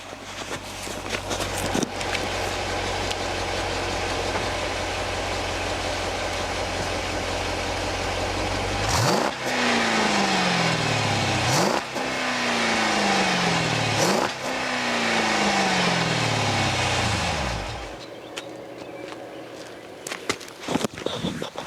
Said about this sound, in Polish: Powtórzmy przygazówkę z drugiej strony.